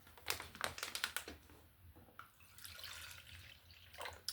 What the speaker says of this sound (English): let me get a drink of water